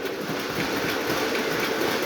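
A Lionel 2755 model steam locomotive pulls New Haven passenger cars around a layout track, giving a continuous rumbling, clattering rush of small wheels and motor that stays steady and close, with no talking.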